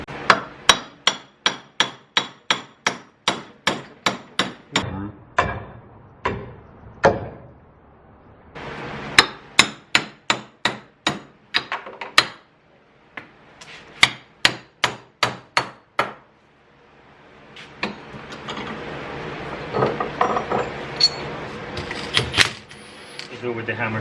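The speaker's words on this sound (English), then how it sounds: "Do it with the hammer first." Sharp metallic hammer blows on a car suspension part ring out in rapid bursts of strikes with brief pauses between, close and loud, followed by some scraping clatter.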